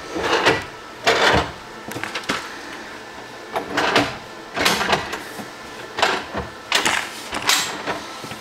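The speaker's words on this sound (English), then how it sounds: "To make it stay all the way flat, you're going to have to kind of force it up just slightly to make this flat." A countertop extension by the entry door of a Roadtrek Slumber camper van is lifted and forced flat, giving a series of sharp clunks and clacks in irregular bursts, close and fairly loud, with no talking.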